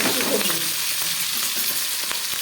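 Shrimp fries in a pan with chillies and salt, a close, steady sizzle with soft crackles and occasional scraping stirs, no talking.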